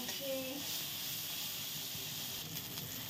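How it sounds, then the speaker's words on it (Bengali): Soybean chunks fry in hot oil with turmeric, giving a steady, even sizzling hiss that runs the whole time at a moderate, close level. "এখন এই সয়াবিনটা অল্প ভেজে নিব।"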